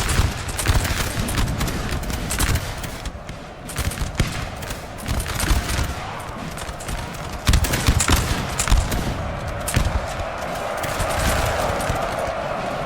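Massed musket volleys crackle continuously in a large Napoleonic infantry battle in Napoleon: Total War, dense overlapping gunfire with occasional heavier booms, loud and chaotic throughout.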